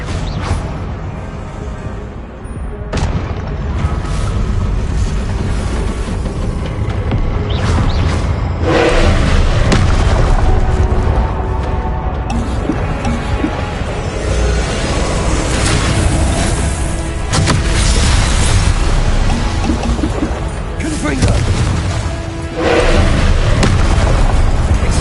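Confringo fire spell blasts in the Hogwarts Legacy video game, loud dense booming explosions layered over continuous rumbling action noise, with sharp bursts breaking through a constant roar.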